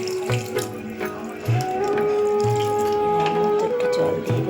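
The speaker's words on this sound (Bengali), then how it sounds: "এবার মাছটার ভিতরে আমি একটু জল দিয়ে দেব।" Water pours onto spice-coated fish in a cooking pan, a continuous trickling splash with a few louder spurts, heard close up with no speech.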